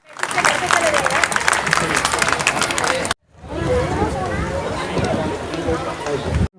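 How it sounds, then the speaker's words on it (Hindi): Loud, dense clapping from a large audience at a children's program fills the clip, with a brief break midway before the applause resumes amid crowd murmur. "तालियों से स्वागत कीजिए"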